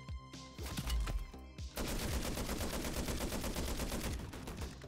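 A Pack-a-Punched Jawbreaker shotgun in MW3 Zombies fires a few spaced blasts, then a rapid, dense string of shots amid game-fight noise.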